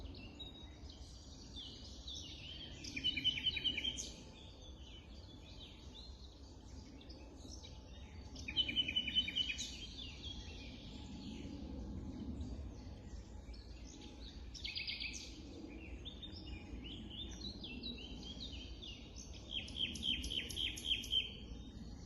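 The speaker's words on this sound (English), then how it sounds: "I will play you this video where you will hear a nightingale singing a few complex songs" A nightingale sings several complex songs outdoors, bright trilling and whistled phrases arriving in separate bursts a few seconds apart over a steady low background hum, with no talking.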